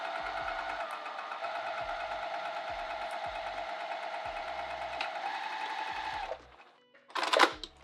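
A domestic sewing machine stitching with Gutermann Sew All thread runs in a steady, close, buzzing whir with a rhythmic mechanical knock for about six seconds, then stops, followed by a brief rustle of fabric.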